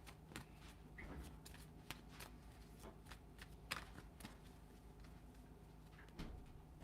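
A deck of tarot cards is shuffled during a live reading, giving a quiet run of soft, irregular riffling slaps and flicks close to the microphone, with no talk.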